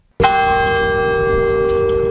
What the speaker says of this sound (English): The bell rings on Temple University's main campus